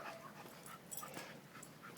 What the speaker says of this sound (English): Hey, shut up, dog.